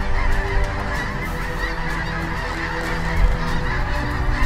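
A flock of snow geese honks continuously during a hunt, many overlapping calls at moderate distance, steady and loud throughout.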